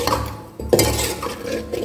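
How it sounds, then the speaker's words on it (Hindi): Yogurt being stirred into chana dal biryani masala in a pot, a wet scraping and sloshing with a spoon knocking against the metal pot, close up and steady. "अब इसको अच्छी तरह से मिक्स कर लेंगे।"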